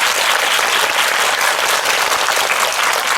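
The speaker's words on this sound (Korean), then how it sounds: "마지막으로 한 번 더 박수 부탁드릴게요." An audience at a film screening talk claps for three guests, actors and a producer, in loud, dense, continuous applause filling the whole moment.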